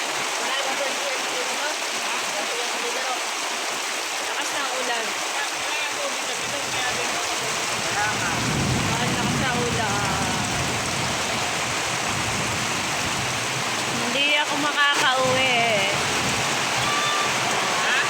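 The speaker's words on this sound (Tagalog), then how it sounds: "Ayan guys, ang lakas ng ulan." Heavy rain pours steadily over a rural province, a constant dense hiss of falling water throughout, with brief bursts of nearby activity near the end.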